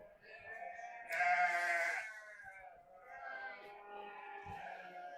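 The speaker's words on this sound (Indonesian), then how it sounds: "Oh, ini nih domba-dombanya nih." Sheep bleating in a pen of meat sheep at a livestock sales yard, several overlapping nearby calls with one loud bleat rising above the rest.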